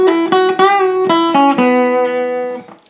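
A guitar plays the lead line from a song, a string of distinct plucked notes in a lilting rhythm, close and clear, the last note ringing out and fading.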